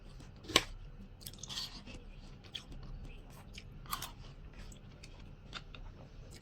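Close, crisp bites and wet chewing of watermelon during a mukbang, irregular crunches and squelches over a few seconds with faint background noise.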